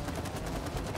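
Rapid gunfire from the video game It Takes Two, a fast string of sharp, closely spaced shots rattling in an even rhythm, moderately loud and with no talk over it.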